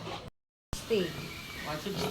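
A pig on a family's property grunting low and rough in short bursts between people talking, with a brief silent gap early on.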